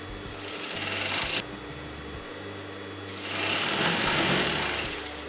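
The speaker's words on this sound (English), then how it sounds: "after sewing this piece of fabric over here" A sewing machine runs in loud continuous bursts while stitching a kurta neckline piece of fabric, with a brief drop in intensity partway through before the motor speeds up again, close and steady.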